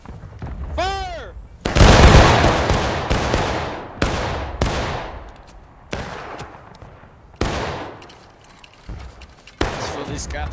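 Musket volleys crack out in the War of Rights video game, several loud booming shots spaced a second or two apart, each trailing a long rolling echo, with a voice heard briefly before the first blast.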